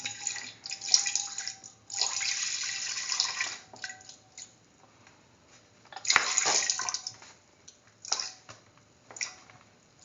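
Milk poured into a heated pan for semolina pudding, a steady liquid pour with splashing and trickling that swells and fades in several bursts, close and fairly quiet.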